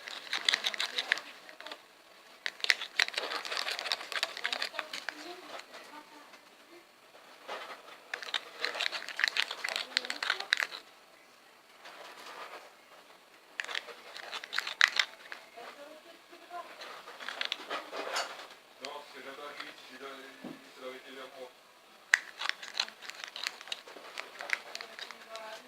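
Slime ingredients are mixed in a pot with wet, crinkly squelching and scraping in irregular bursts, close to the microphone, and a person talks at times in between.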